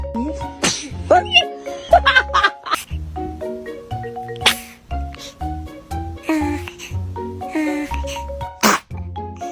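A baby makes a few small, quick sneezes near the start. Music plays steadily underneath.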